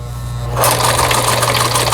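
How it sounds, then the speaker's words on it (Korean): A Singer sewing machine running a wide zigzag overlock stitch, a loud, steady mechanical whir and rapid needle clatter that starts about a third of the way in over a constant motor hum. "지그재그 가장 큰 넓은 폭에 나와서 이래서 바느질을 하고 오버록 스티치가 되겠습니다."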